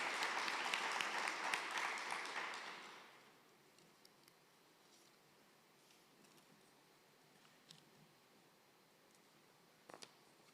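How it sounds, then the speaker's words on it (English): Audience applause for a group of women singers at a launch event, a loud burst of clapping that fades out after about three seconds, leaving a quiet room with faint rustles and a couple of small ticks. "Give the ladies a round of applause"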